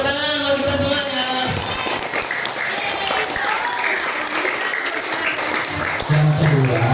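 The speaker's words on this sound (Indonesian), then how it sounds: "Masya Allah, tepuk tangan buat kita semuanya." An audience at a school Ramadan storytelling event breaks into steady, dense applause that lasts the whole stretch, with voices mixed in under the clapping.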